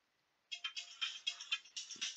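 A phone ringtone in a Civil War strategy game session chimes in a quick, bright repeating pattern, starting abruptly after a short silence and continuing steadily up close, with a brief low thump near the end.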